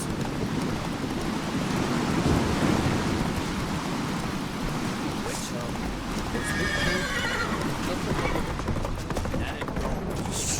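Roach, the horse in The Witcher 3, whinnies loudly amid steady galloping hoofbeats, with game ambience and rumbling in the background and voices speaking over it.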